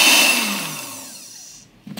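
A blender pulsing fruit for cajá juice whirs loudly, then spins down and fades, followed by a brief burst as it pulses again.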